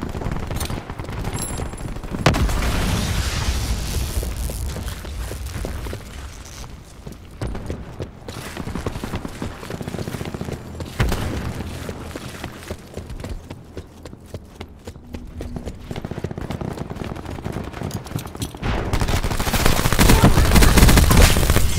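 Turret fire in Call of Duty Black Ops 4 on the Seaside map, long stretches of rapid, dense automatic bursts mixed with footsteps and other game noise, loud and continuous with brief pauses.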